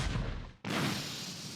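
A single sharp gunshot in The Great Ace Attorney Chronicles cuts in after a brief fade, followed by a loud sustained boom that slowly tails off.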